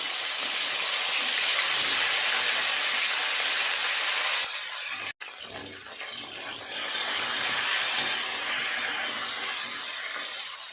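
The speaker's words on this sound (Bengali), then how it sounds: "এই একই তেলে কপিগুলো ভালো করে ভেজে নেব।" A loud, steady sizzling hiss of cauliflower frying in oil, close by, briefly dropping and then continuing more softly with bubbling crackle.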